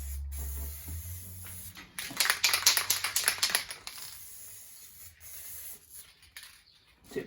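Spray can blasting paint onto a Datsun 260Z chassis rail at the welded lap joints through a partly blocked tip. A sputtering hiss rises for about two seconds in uneven bursts, then thins into faint rubbing and scattered clicks.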